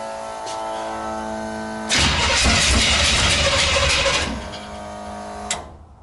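A classic truck engine on an offroad wrecker hums steadily, then bursts into a loud, rough two-second cranking roar that sputters and fades, ending with a short pop.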